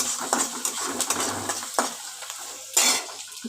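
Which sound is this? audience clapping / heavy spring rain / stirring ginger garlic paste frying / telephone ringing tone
stirring ginger garlic paste frying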